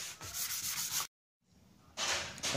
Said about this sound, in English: soak with water because it'll sand better.